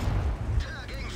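A tank cannon fires in the game World of Tanks, one deep booming report with a low rumble trailing off over about a second, in the foreground.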